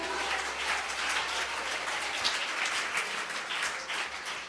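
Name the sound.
church congregation applauding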